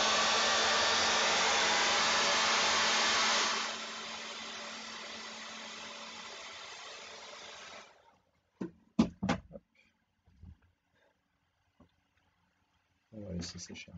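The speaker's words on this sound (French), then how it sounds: "un peu de sèche-cheveux" Hair dryer blowing steadily and loudly up close, its tone dropping slightly partway through, then switched off, followed by a few clicks and handling knocks in a quiet room.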